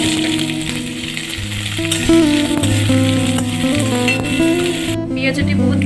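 Onions frying in hot oil for a dhaba-style Punjabi tadka masala: a steady, bright sizzle that runs throughout, partly covered by louder music playing over it.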